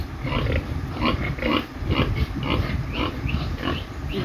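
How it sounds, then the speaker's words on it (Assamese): Pigs on a pig farm in Assam grunt and snuffle steadily at close range, a busy, continuous rumble of short nasal grunts. No one speaks. "ইয়াতে এইকেইটা গাহৰি ৰাখিছে ইয়াতে।"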